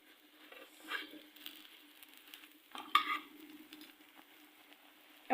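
A vegetable-stuffed Chinese-style paratha frying in oil on a pan over low heat gives a soft, steady sizzle, close and quiet, with a few light scrapes and stirring taps.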